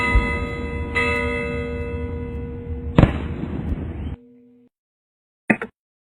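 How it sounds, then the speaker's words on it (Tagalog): Church bells ringing during a grand church procession, sustained metallic tolling with several sharp bright strikes, a loud clang near the middle, then a sudden cutoff and a short final burst. "umaalingaw-ngaw na dupikal ng mga kampana"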